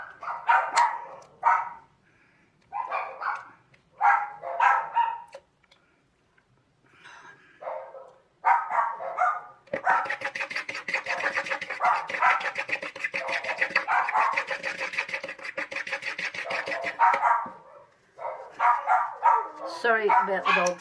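Dogs bark in an indoor setting in bursts of sharp, repeated barks close by, some rapid and continuous for several seconds, with short quiet gaps between.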